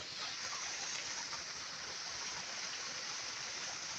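Irrigation water runs through a field channel on a farm, a steady, even rushing wash that never pauses or changes, heard on its own without voices.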